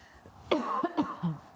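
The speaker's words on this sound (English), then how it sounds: "Everyone in this house is coughing." A single close cough followed by a couple of short, smaller hacks.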